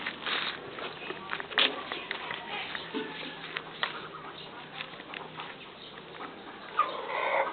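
A rooster crows amid background chatter, with scattered clucks and rustling in a busy outdoor setting.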